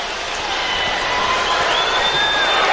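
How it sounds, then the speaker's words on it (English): Football stadium crowd roaring after a Hawaii touchdown against Purdue in 2006, a dense, sustained wall of cheering and whistles that swells slightly over the moment, with no clear single voices standing out. "this crowd is being heard from"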